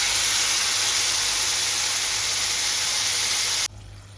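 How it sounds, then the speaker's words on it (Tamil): Tamarind water poured into a hot curry tempering sets off a loud, steady hiss and sizzle that cuts off abruptly near the end, leaving a quieter bubbling. "இந்த டைமில் வந்து நாங்கள் வந்து கரைச்சி வச்சிருந்த புளியை சேர்க்கிறோம்"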